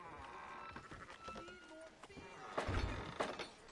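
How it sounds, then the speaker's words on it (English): Sheep bleat in Red Dead Redemption 2 among thumps, footsteps and movement sounds, a few short calls rising over a busy game soundscape with speech present. "Fine sheep."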